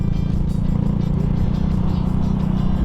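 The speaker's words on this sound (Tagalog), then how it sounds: "parang hindi na naka-silencer yung power pipe natin ah" A loud, continuous motorcycle engine roar with a raw, unmuffled rumble from an exhaust pipe without a silencer, steady and close throughout.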